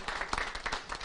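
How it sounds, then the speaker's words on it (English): An audience gives brief, faint applause for South Carolina Governor McMaster at an event announcing I-73 highway funding, with scattered clapping heard at a distance. "Give him a round of applause there."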